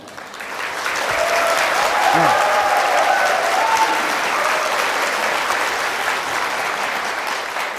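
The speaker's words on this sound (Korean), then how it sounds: "근데 박수도 요때 치는 거예요." An audience at a lecture breaks into broad applause that builds within the first second and continues steadily, with a faint voice briefly audible beneath the clapping.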